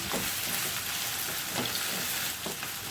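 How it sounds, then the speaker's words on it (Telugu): Sliced bitter gourd rounds frying in hot oil in a pan give a steady, close hiss and sizzle with a few soft crackling pops throughout. "ఆయిల్ వేడెక్కిన తర్వాత మనం చక్రాల్లా తరిగి పెట్టుకున్న కాకరకాయని వేసుకొని వేయించుకోవాలి."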